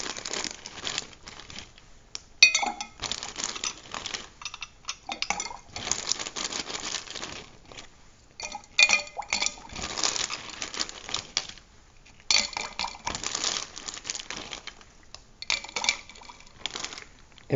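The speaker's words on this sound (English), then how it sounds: "I'm going to add some ice to my beaker" Ice cubes drop into a glass beaker in a lab, sounding as a series of close, irregular clinks, rattles and crackles spread over many seconds with brief quiet gaps.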